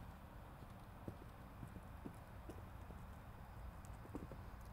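A horse's hooves clip-clopping during a show jumping horse pass challenge, soft regular footfalls heard at a distance over a steady, noisy outdoor background.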